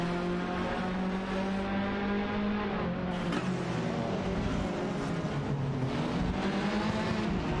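In a racing video game, an Alpine A110 and a Puma GTB race side by side. Their engines drone loud and steady with shifting pitch as one overtakes the other, and a brief sharper accent comes midway.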